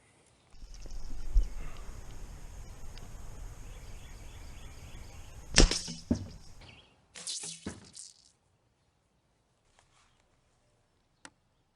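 A TruGlo bowfishing arrow leaves a 45-50 pound bow with one sharp snap mid-clip, over steady outdoor rustle and hum, then a few faint knocks before near silence.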